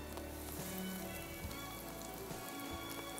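Egg fingers coated in mixed spice masala sizzle steadily in hot oil, a dense continuous crackle with no breaks, close and fairly quiet.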